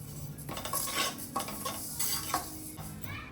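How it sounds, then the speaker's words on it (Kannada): Sesame seeds lightly frying in a kadai, a spoon stirring and scraping against the metal pan in quick repeated strokes over a soft, quiet sizzle. "ಸ್ವಲ್ಪ ಫ್ರೈ ಮಾಡ್ಕೊಳ್ಳಿ ಲೈಟಾಗಿ."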